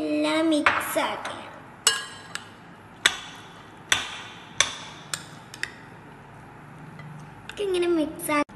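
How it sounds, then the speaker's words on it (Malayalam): Fruit salad with watermelon and banana being mixed in a bowl, giving a series of sharp, separate clinks of a utensil against the dish about a second apart, with a voice briefly heard at the start and end. "ഇങ്ങനെ മിക്സ് ആക്കി നമുക്ക് ഇത്ര മതി."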